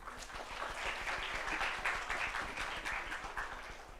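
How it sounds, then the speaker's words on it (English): Steady audience applause fills a symposium hall on nutrition and health, a dense, even patter of many hands clapping together at moderate distance, continuing without pause and with no voices over it. "please join me in a round of applause to acknowledge Ms. Bianda for her exceptional moderation skills and dedication to this symposium."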